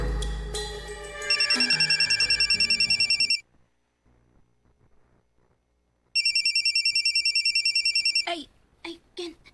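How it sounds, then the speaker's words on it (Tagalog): A cellphone rings with a bright, rapidly pulsing electronic tone in two bursts separated by a few seconds of near silence, following some faint background sound and ending with short voices. "May bagtang na sa inyong cellphone."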